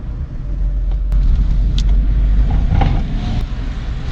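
Steady low engine rumble from a BMW E30 car while driving, a continuous loud road drone with a few faint clicks and squeaks riding on top, no talking.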